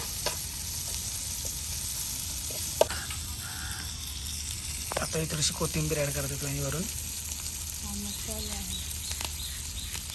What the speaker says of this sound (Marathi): आता ही झाली कोलंबी तवा फ्राय